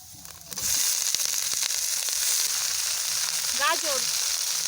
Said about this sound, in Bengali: মেলা কপিগুলি দিয়ে দিই।